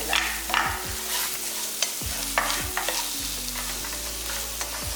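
Tomato, onion and grated coconut are stirred and sautéed in a pan for a vegetable kurma, giving a soft steady sizzle broken by repeated scraping strokes of a spoon, close and without talk.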